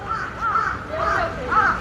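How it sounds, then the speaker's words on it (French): Crows cawing repeatedly in Asakusa, Tokyo, in humid weather, a series of harsh nasal caws at moderate distance, with someone talking over them. "vous entendez les corbeaux?"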